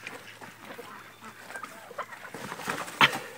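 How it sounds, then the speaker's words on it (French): A large turkey being caught on a farm lets out scattered honking gobbles and squawks, faint at first, then a sharp loud cry near the end, with faint voices in the background. "Ça, c'est une dinde, c'est ce qu'on mange pour Thanksgiving."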